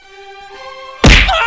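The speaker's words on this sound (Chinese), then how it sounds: "哇，车祸现场" A video game vehicle crash lands as one sudden loud, heavy thunk after a second of a sustained engine-like tone, with a rough rumbling tail after the impact.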